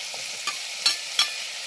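Shallots, ginger and garlic hit hot oil with fenugreek, a steady close sizzle broken by three sharp scraping stirs.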